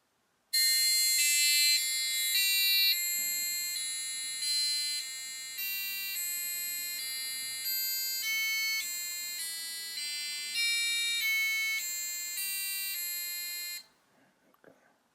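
A passive buzzer driven by an Arduino R4 and triggered by a PIR motion sensor beeps out the Happy Birthday tune as a string of shrill, harsh notes, loud and close, for about thirteen seconds before cutting off into near silence.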